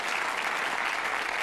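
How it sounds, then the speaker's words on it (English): Studio audience on a darts-themed game show breaks into full, steady applause, a thick continuous roar of clapping throughout the short moment. "Give them a round of applause."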